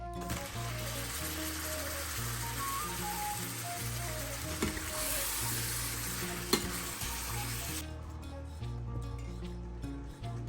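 Chopped onion sautéing in hot oil for a chicken dish, a steady loud sizzle with occasional scraping stirs, continuous throughout and close up.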